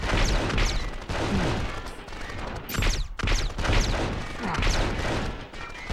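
Gunfire in the 24 video game, a dense run of loud repeated shots and crashing bursts that fills the whole stretch with barely a pause.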